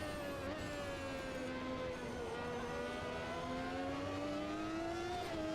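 A 1991 Minardi Formula One car with a Lamborghini engine in the Automobilista 2 racing game, a loud, continuous high-pitched engine whine holding near-constant revs with slight pitch shifts and no talk.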